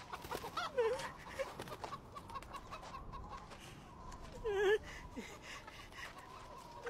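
Chickens cluck in a farmyard, one rooster-like call rising early and a louder squawk near the middle, over a steady background of distant bird and village noise, with faint voices mixed in.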